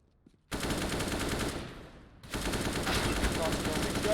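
Sustained rapid automatic gunfire from a Counter-Strike match, a dense continuous burst that pauses briefly, then resumes loud and near.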